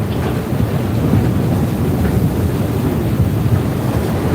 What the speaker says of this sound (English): We are getting hit by a squall right now.